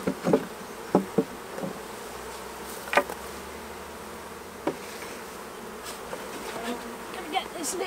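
A honeybee swarm moving into a full-sized hive sends up a steady insect buzz close by, punctuated by a few sharp knocks and taps.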